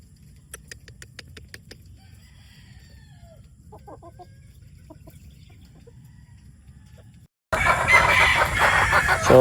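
A future broodstag SBR gamecock calls with a run of sharp clucks early on, then faint scattered clucking over a low steady background, ending in a sudden loud burst of noise.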